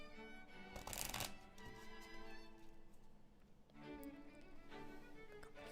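Tarot-style playing cards shuffled and drawn for a card reading, a crisp riffling burst near the start and another softer shuffle later, close and quiet over faint background tones.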